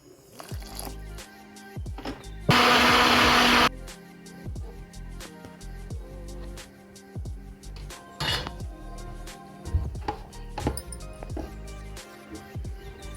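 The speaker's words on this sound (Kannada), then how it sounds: "ಮಿಕ್ಸಿ ಜಾರ್ಗೆ ಹಾಕ್ಕೊಂಡಿದ್ದೀನಿ" Mixer grinder jar churning homemade butter with a little water added, a loud broadband whirring burst of about a second amid kitchen clatter of utensils and spoon clinks.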